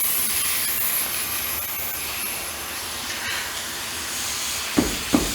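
Air hissing steadily as a 1952 Chevy tire is aired up, with a broad continuous rush and two brief sharper bursts near the end, close by with no talk.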